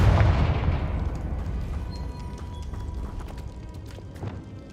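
Confringo blasting spell in the video game Hogwarts Legacy: a sharp, loud explosive burst at the start that decays into a rumbling, crackling tail, with small clinks and debris sounds scattered over the fading remainder.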